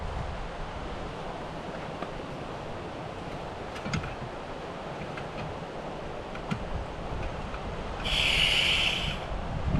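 Strong wind at a seaside camp roars as a steady, rough, near rush with a few soft knocks, and a brief electronic beep sounds near the end.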